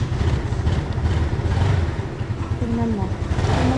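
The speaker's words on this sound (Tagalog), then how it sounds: "start natin yung aking motor." A motorcycle engine runs and revs at a Philippine gas station, a steady close rumble with rising pitch sweeps toward the end, while a person talks over it.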